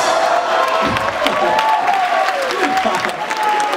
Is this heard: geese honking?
no